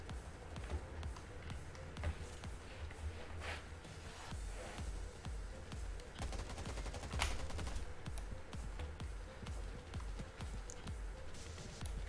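Rapid gunfire from the Undawn video game, with sustained bursts and individual sharp shots over a busy, rumbling game soundscape, moderately loud and continuing for the whole stretch.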